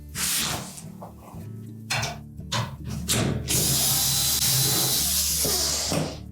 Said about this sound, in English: there's typically 3/4-inch hex head screws located along the bottom edge. We'll need to remove those.